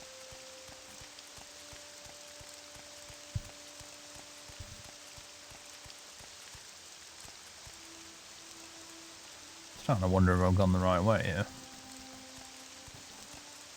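Steady light rain patters in the fantasy RPG Morrowind, a soft continuous hiss filling the background, with someone speaking briefly over it near the end.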